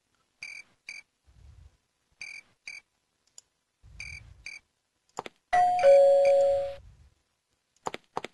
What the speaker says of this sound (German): Das soll die Türklingel sein,